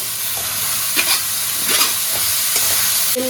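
Dried red chillies and garlic hit hot oil, crackling in a lively sizzle with a few stirring scrapes and bursts over a constant frying hiss, close and fairly loud, with no speech.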